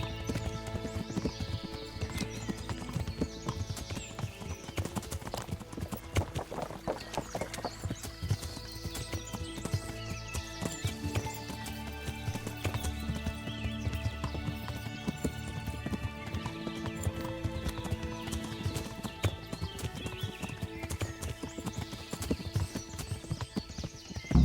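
Horse hooves clip-clop steadily in the video game Kingdom Come: Deliverance, a rhythmic, continuous trot heard up close, with a horse whinnying and game music or ambience underneath.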